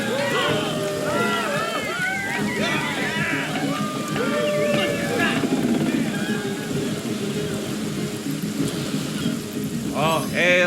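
Steady rain with rumbling thunder in the role-playing video game Divinity: Original Sin Enhanced Edition, a dense continuous wash with chirpy and voice-like sounds scattered through it, loud throughout.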